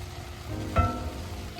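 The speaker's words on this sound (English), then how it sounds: "now I'm going to add the garlic" Garlic dropped into browning ground meat in a skillet, a steady soft sizzle with a brief louder hiss as it hits the pan, no talking.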